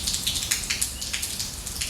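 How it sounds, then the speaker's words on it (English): Rain falling outside on an early morning, a steady patter of drops with irregular brighter splashes, continuous and fairly close. "It's raining, so I'm not doing this outside"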